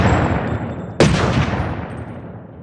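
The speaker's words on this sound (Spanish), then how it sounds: "apretó el gatillo 2 veces" A gunshot sound effect cracks once sharply in a dramatized audiobook reading, then rings and decays over a steady background bed; only one clear report stands out rather than two.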